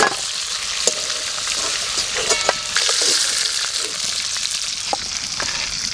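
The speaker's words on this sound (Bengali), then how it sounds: "মাংসটা খুব বেশি ভাজবো না, এবার তুলে নেব।" Meat frying in a pan, a steady close sizzle with scattered crackles and stirring scrapes, no talk over it.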